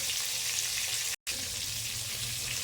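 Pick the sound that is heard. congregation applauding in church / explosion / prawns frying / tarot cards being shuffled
prawns frying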